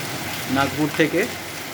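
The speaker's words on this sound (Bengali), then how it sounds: "প্রচণ্ড পরিমাণে বৃষ্টি হচ্ছে" Heavy rain pours over a village near Nagpur, a constant dense hiss heard close, with a person's voice speaking briefly over it.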